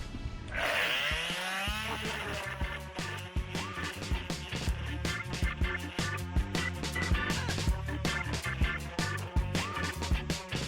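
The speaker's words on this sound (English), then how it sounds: "so I'll just start sanding this" A power sander whirs steadily and loudly up close, its buzzing pitch wavering as it presses across pallet wood, with brief rattles and bumps throughout.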